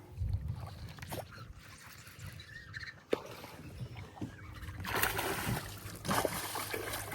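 A 20-inch redfish is released head first into shallow water, making a soft splash and some watery sloshing beside a dock, faint against a low outdoor rumble.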